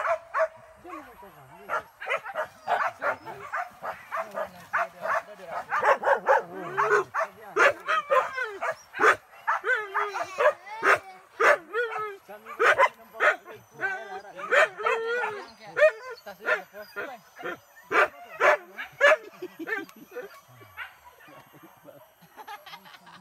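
Dogs bark, yip and whimper in quick, irregular bursts during a hunt with men in the field, the yelps fairly close and mixed with people talking throughout.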